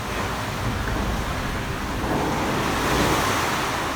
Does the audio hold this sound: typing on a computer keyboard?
no